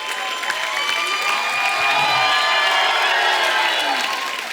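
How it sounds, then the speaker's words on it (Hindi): Studio audience on a comedy show applauding and cheering for the Deol family, a loud continuous mix of clapping, whoops and crowd shouts with music-like tones over it. "जोरदार तालियां हो जाएं।"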